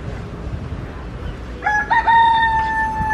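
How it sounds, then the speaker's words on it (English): A rooster crows loudly and close on St Barths over a noisy outdoor background, a clear multi-part call arriving after a stretch of ambient noise. "Are you a little chicken?"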